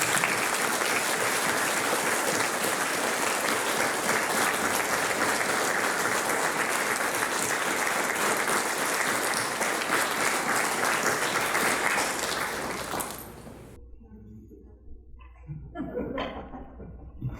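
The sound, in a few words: audience applause at school prize giving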